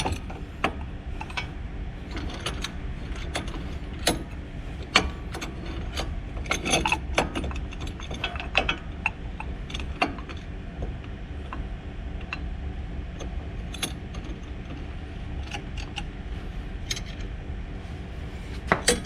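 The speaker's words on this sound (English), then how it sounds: "using this C-clamp, we are gonna push the cup back in" A C-clamp is tightened to push a brake caliper piston back in during a brake rotor and pad change, giving quiet scattered metallic clicks, creaks and ratcheting scrapes at close range with no talk.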